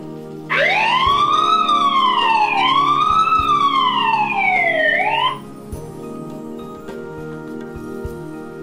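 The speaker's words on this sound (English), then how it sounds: "you can also access two-way talk or sound the siren" A loud electronic siren from a SENS8 all-in-one home security system wails up and down in two long sweeping cycles, then cuts off, leaving a quieter background hum.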